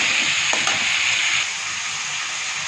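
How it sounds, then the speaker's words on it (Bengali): Steady sizzling of potato and green banana frying in hot oil with cumin and bay leaf, close and continuous, with a brief clatter of stirring near the start. "তেলে দেখো আমি জিরে ফোড়ন আর তেজপাতা দিয়ে দেখো কাঁচকলা, আলু আর লবণ হলুদ দিয়ে"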